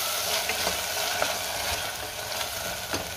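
Tomato, mint leaves and coriander are stirred in a hot pan, giving a steady sizzle broken by repeated scraping and clinking spoon strokes, close and fairly loud.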